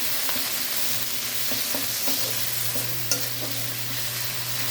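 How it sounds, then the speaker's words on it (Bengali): Chilli paste and spices being stirred in a hot pan for a spicy brinjal karanchi, a steady sizzle under repeated soft scraping strokes of the spoon, close and fairly quiet, with no talking. "এটাকে আমি সামান্য একটু এরকম নেড়ে ফেলে নেবো কিছুক্ষণ।"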